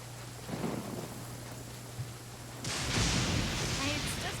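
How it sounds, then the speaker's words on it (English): Thunder and rain from a lightning storm over the open ocean in Genshin Impact, a low rumbling roll that swells into a louder burst of noisy downpour near the end, with a steady hum underneath. "It's just a little lightning."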